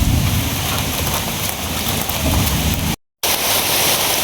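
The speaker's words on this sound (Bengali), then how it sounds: "বৃষ্টি শুরু হয়ে গেছে।" Heavy rain suddenly pours down hard and close, a dense, even roar of drops hitting surfaces, cut by a brief dropout before it resumes.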